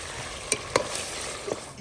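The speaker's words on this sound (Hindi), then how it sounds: "चिकन की भुनाई हो रही है।" Chicken fries in a pot in a village mud-house kitchen, a steady quiet sizzle with a few sharp clinks of a stirring spoon against the pot.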